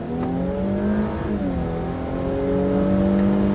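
A 2020 Infiniti Q60 Red Sport 400 in Sports Plus mode pulls away hard in first gear, its engine note climbing in steady rising harmonics, loud and close, with no pauses.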